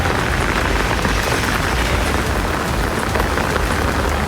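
Sudden rain falls on a weekly market at Seidunganallur, a dense, steady hiss of drops striking surfaces that stays loud and even throughout, with no voices.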